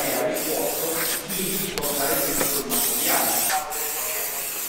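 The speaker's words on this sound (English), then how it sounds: "This is the cockpit spray." Continuous hissing of an aerosol cockpit spray on an enduro motorbike, broken by a few short gaps where the nozzle is released and pressed again.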